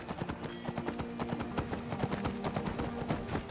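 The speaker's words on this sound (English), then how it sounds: "Huh, that's Lydia calling her horse now." A horse's hooves clip-clop in a quick, even rhythm in the video game Skyrim. The footfalls sound close and clear, with no talking.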